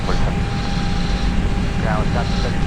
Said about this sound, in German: Und hinten rollt eine 737, würde ich gerade sagen.